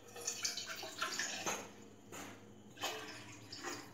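Water is poured from a cup into a pot sitting on a kitchen stove, a faint, uneven splashing and trickling in a few short surges, with no talking.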